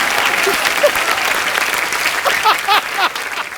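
Studio audience applause at a Kapil Sharma comedy show, a steady dense clatter of many hands filling the space, with faint whoops and voices rising over it near the end.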